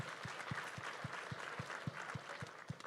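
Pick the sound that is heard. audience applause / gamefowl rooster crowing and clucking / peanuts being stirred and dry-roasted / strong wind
audience applause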